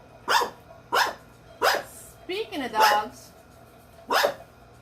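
A pet dog barks at a home paint party, six sharp separate barks spaced about half a second to a second apart, with a short growling grumble in the middle, loud and close, and no talk over them.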